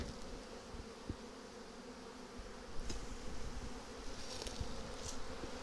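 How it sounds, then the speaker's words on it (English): Dense, steady buzzing of many bees inside a swarm trap hive being worked with smoke, close and continuous, with faint handling knocks underneath. "So we got lots of bees in here still."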